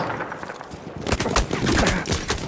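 Gunfire in the video game Battlefield 1, a quiet lull giving way to rapid bursts of close, loud shots and crackling reports over the last second and a half.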